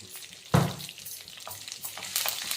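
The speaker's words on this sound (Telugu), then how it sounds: "ఇదంతా శుభ్రంగా వేయించాలి." Spice mixture of tempering spices, curry leaves, dried chillies, tamarind, turmeric and salt frying in a pan, a sizzling crackle with a sharp stirring scrape near the start and further scrapes and clatters.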